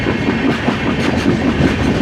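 Rajdhani Express rolling into Karwar station, a steady close rumble of wheels and carriage with rhythmic clickety-clack over the rails, loud and continuous with no voices.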